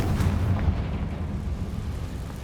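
Bombarda and Confringo spell blasts in Hogwarts Legacy, a sustained deep rumbling roar of explosions with low booming weight and crackling debris, loud and continuous without any voices.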